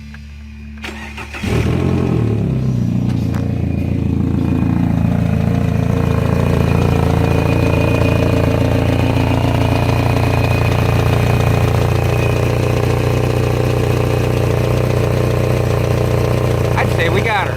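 A 2000 Kia Sephia with a freshly replaced timing belt and a known exhaust leak cranks briefly, fires up and settles into a loud, steady close-up idle with a faint ticking in the exhaust note.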